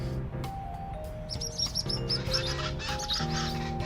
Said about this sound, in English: Bird! Whoa, they animated the birds.